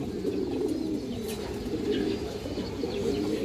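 A high-flying-line pigeon coos close by in a steady, low, murmuring stream that carries unbroken through the whole stretch, with no voices alongside.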